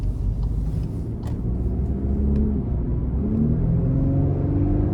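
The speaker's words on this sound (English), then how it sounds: "It's a 2-liter turbocharged 4-cylinder, so I'd expect it to feel pretty peppy" A 2024 Volkswagen Atlas SE Peak Edition with a 2-liter turbocharged four-cylinder engine, driven in sport mode, makes a steady low engine rumble inside the cabin that builds slightly as it pulls, with a few faint ticks above.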